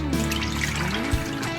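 Saltwater brine poured off venison hams into a sink, a steady low splashing trickle of liquid throughout with no talk.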